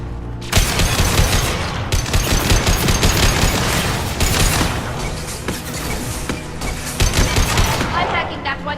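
A hacked turret in the Mass Effect 2 video game fires bursts of rapid automatic gunfire, loud and sustained across several volleys with brief gaps, mixed with booms and game combat sounds.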